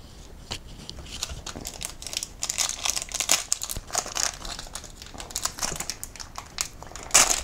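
A 2023 Prizm basketball card pack wrapper is torn open and handled, giving a close, continuous run of crinkling and crackling foil that builds and ends in a sharp rip, with no talking.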